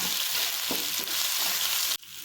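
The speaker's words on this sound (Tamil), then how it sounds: "இது பொன்னிறம் ஆகிற வரைக்கும் வதக்குங்க வெங்காயம்." Onions sauté in a pan toward golden brown, a loud, close, continuous hiss of frying with a couple of brief stirring scrapes before it cuts off.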